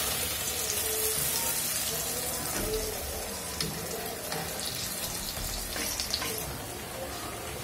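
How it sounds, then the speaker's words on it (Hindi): Bread pakora fries in a pan, giving a faint, steady sizzle and bubbling crackle with scattered small pops throughout. "अब हम इसको फ्राई कर लेंगे इस तरीके के साथ"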